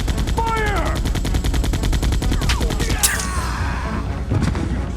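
Rapid gunfire rattles through a tense Resident Evil 2 fight, a steady fast stream of shots loud and up close, with creature shrieks and impacts layered over it.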